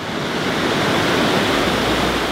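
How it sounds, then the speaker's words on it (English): Fast-flowing creek water swollen by heavy rain rushes in a loud, steady, broadband roar, close by and unbroken, with no voices. "It has been raining a lot, so this water is moving kind of fast"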